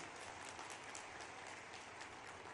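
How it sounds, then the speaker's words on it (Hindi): Audience applause at a public government welfare-scheme event for women beneficiaries, a dense, steady wash of clapping from a large crowd heard at a distance, fairly faint and continuous with no talking. "तो पहले अच्छे से तालियां बजाओ"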